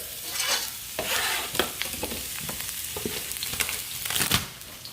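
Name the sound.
onions frying in olive and vegetable oil in a pan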